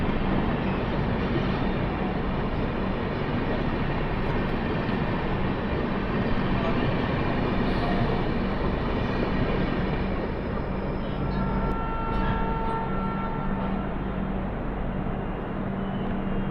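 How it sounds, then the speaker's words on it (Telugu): The Bokaro Express pulls out of the station, heard as a continuous, even rumble of rolling rail cars and engine noise with a faint steady whine, no talk. "బొకోరో ఎక్స్ప్రెస్ క్లియరెన్స్ వచ్చింది, సో వెళ్ళిపోతుంది"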